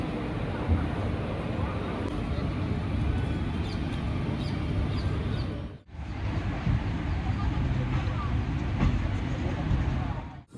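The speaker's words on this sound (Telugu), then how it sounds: "మన ట్రైన్ అయితే స్టార్ట్ అయింది నంద్యాల జంక్షన్ దాటేస్తుంది చూడండి" A steady, loud rumble of a passenger train departing Nandyal Junction fills the recording, a continuous rolling roar with a brief dip midway, heard from on board.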